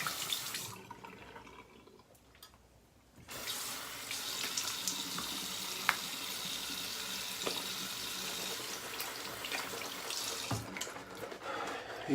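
Tap water running steadily into a sink while a face is splashed during a shave, a loud continuous rush that briefly drops before resuming, with small splashes and drips on top.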